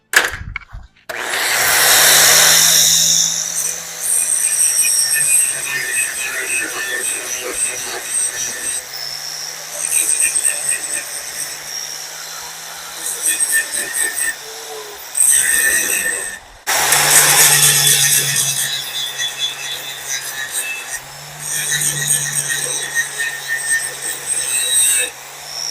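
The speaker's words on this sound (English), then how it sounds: "what I like to do is I like to open it up a little bit with the grinder" A grinder works on a steel pipe end, opening up the bevel before an open-root 6010 weld. Its loud whirring comes in repeated bursts, with pauses between passes.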